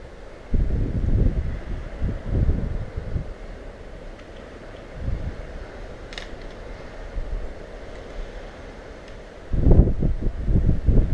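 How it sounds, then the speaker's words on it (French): Wind gusts through an open room at 11 degrees, rumbling and buffeting the microphone in uneven surges, strongest at the start and near the end. "il y a plein de vent quand même."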